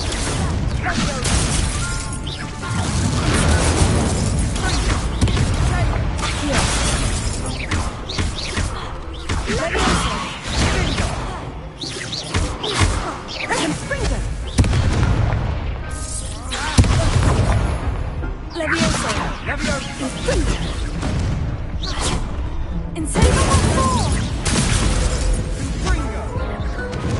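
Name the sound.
spell explosions in Hogwarts Legacy video game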